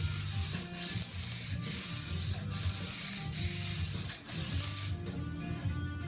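Fine abrasive rubbing over electric guitar frets and a rosewood fretboard, a close, steady scratchy sanding with rhythmic back-and-forth strokes roughly every second.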